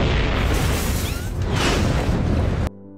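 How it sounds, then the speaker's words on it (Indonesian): A huge explosion in an anime-style fantasy scene, a loud, dense roaring blast that fills the clip for over two seconds at near-constant intensity, then cuts abruptly to quiet. "ledakan super besar"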